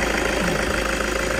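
A diesel car engine idles steadily with a dense, even clatter and rough hum, loud and close, with no talking.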